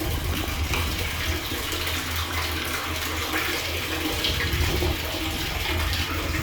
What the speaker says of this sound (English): So that's my deep well. It's pumping water up from the well.